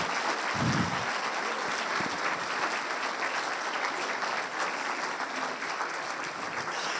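Sustained audience applause fills a theatre at a film premiere, a dense steady wash of clapping for the full stretch, with no talk over it.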